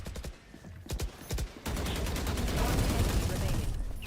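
Rapid gunshots in an esports shooter match at a LAN tournament: a run of sharp separate shots early, then a sustained loud burst of fire with a rumbling tail, with commentator speech faintly present.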